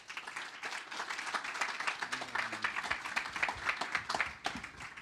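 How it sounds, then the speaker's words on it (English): Conference audience at a modular blockchain summit gives a round of applause, a dense patter of many hands clapping steadily and fairly softly for several seconds, with no voices over it. "One more round of applause"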